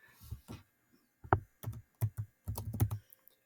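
Coordinates being typed on a computer keyboard: a few quiet, separate key taps followed by a quick run of clustered clicks, close and alone with no talk.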